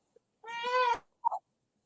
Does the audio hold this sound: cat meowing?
yes